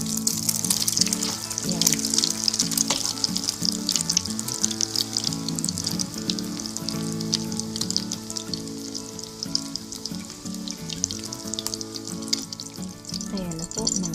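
Eggs and a hotdog fry in a pan with steady, loud sizzling and crackling oil spitting throughout, and a brief spoken word at one point.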